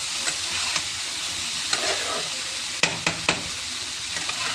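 Watermelon rind curry with cumin and red chili powder stirred in a hot pan: continuous close sizzle with a few sharp spoon clacks against the pan near the end, no talking.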